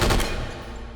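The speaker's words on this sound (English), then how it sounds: "It's an open bolt SMG." A single loud, close burst from an open-bolt submachine gun in the VR game H3VR, a sharp report that rings out and decays within a second.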